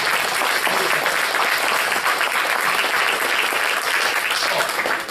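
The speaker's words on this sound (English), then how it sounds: "Let's give everyone a round of applause." A large audience at an evening fine arts society event breaks into sustained, dense applause, steady and loud throughout with no talking over it.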